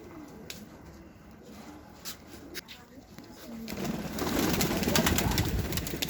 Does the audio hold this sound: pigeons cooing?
yes